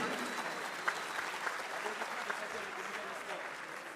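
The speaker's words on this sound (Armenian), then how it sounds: "շնորհավորում ենք ձեր ծափարությունները" Audience applause at the ARMAT Fight Show after a bout, steady clapping from a crowd with a few sharper claps standing out, fairly distant and even throughout.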